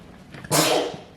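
A single loud, breathy sneeze bursts out close by, with no talking around it.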